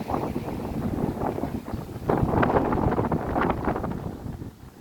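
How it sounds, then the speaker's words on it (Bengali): Strong wind gusts across an open space flanked by paddy fields in a Chittagong village, roaring and buffeting the microphone steadily throughout, loud and close with no other clear sounds. "এখানে প্রচন্ড বাতাস তো বাতাসে হয়তো আমার শব্দগুলো ঠিক মতো শোনা যাচ্ছে কিনা আমি জানি না"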